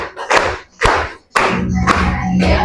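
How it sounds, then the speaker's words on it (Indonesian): A classroom group claps hands in three short bursts followed by sustained clapping, loud and close, during a teaching session with finger games. "Tepuk tangan untuk kita semua."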